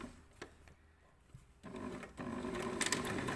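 Sewing machine stitching gathers in place on a camisole: faint clicks and handling at first, then a steady mechanical whirring run of stitching that grows louder toward the end.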